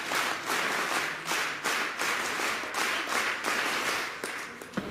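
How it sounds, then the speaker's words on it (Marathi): A group of ASHA health workers claps together in welcome at a municipal event, sharp and fairly distant bursts of hand claps in a repeating rhythmic pattern that fades near the end. "सुधा कांक्रिया मॅडमचं स्वागत करण्यासाठी सर्व आशाताईंनी एकदा आशा टाळी द्यायची आहे"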